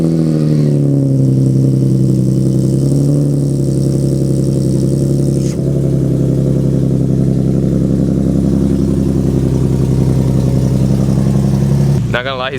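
A Nissan 370Z NISMO's VQ V6 idles through its exhaust, a loud, steady, deep burble close by that holds even for the whole stretch before a brief sharp noise at the very end.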